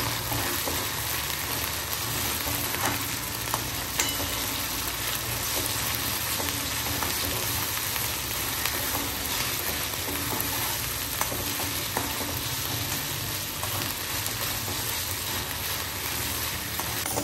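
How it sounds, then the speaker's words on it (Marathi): Onion and tomato paste fries in a pan with a steady, close sizzle and occasional stirring scrapes, with no voices throughout. "एक कांदा आणि एक टोमॅटो मोठा, त्याची पेस्ट जेवढी आहे तेवढी सगळीच टाकणार आहे. भाजून घेते याच्यातच."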